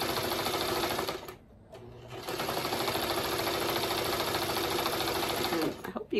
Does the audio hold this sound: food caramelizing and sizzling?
no